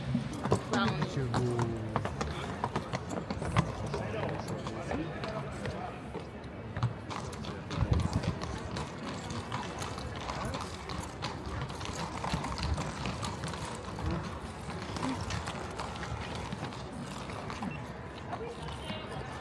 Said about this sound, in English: See the horses come out and soldiers marching and drums playing and all sorts.